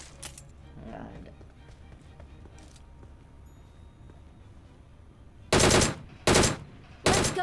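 A DP-28 machine gun in a video game firing three loud, sharp bursts near the end, preceded by quieter game ambience and faint footsteps.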